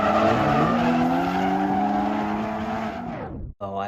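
A drift car sliding with a long, loud, continuous tire squeal over a revving engine, ending abruptly.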